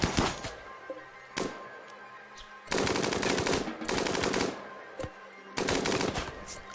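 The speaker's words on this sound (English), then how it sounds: "Shoot that rat." Bursts of rapid automatic gunfire in the colony-survival game RimWorld as colonists shoot a rat, several loud sustained volleys separated by short gaps, with no talking.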